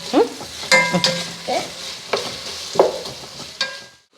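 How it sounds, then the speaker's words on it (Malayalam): Masala paste for a Malayali chicken biryani gently stirred and sautéed in a pan over a low flame, with a soft sizzle beneath irregular scrapes and clinks of the spoon against the vessel; no one talks. "ഒന്ന് വഴന്നു വരുന്നിടം വരെ ഇതിനെ ചെറുതായിട്ട് ഇളക്കി കൊടുക്കണം"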